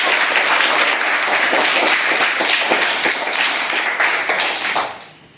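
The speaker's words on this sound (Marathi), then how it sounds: "सगळ्यांनी टाळ्या वाजवल्या" A classroom of students at a village primary school quiz claps for a pupil, producing dense, continuous applause that holds steady for about five seconds before tapering off.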